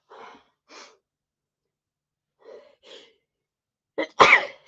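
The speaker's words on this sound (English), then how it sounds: "And I have to sneeze." A single sharp sneeze near the end, preceded by a few soft breathy inhales and a quick gasp, close and loud in an otherwise quiet room.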